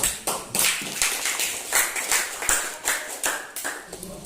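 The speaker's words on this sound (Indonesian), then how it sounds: "Tepuk tangan dulu." Classroom full of students applauding after group assignments are announced, rapid overlapping hand claps forming a continuous patter for several seconds, near and moderately loud, with no talking.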